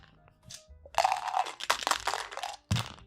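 Dice rattled and shaken inside a cup during a game of Liar's Dice (Perudo), a few quick crunchy bursts of clattering, close and fairly loud, with short pauses between shakes.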